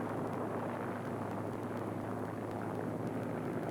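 A warbird's propeller engine roaring during takeoff at maximum 3,000 RPM, a dense, steady, loud drone with a low throbbing hum that holds constant throughout and has no talking over it.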